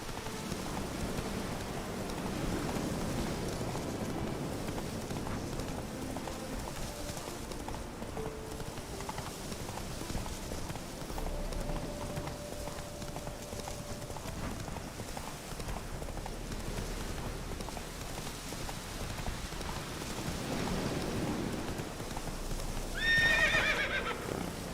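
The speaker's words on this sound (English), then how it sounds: "Run, Roach" A horse gallops in The Witcher 3 video game, its hooves beating in a steady rhythm over soft rain ambience, with a whinny near the end.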